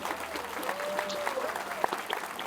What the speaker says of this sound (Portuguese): uma salva de palmas para essa bonitona.